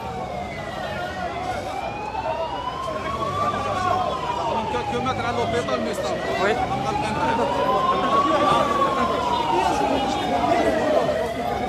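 An ambulance siren wails, sweeping slowly up and down over busy street noise, fairly close, while people talk nearby.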